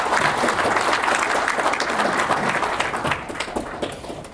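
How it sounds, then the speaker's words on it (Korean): A crowd at a book launch event for a volume on 80 years of separated families breaks into loud, sustained applause, many hands clapping densely and tapering off slightly toward the end. "우리 이동목 고모님 박수 한번 크게 부탁드리겠습니다"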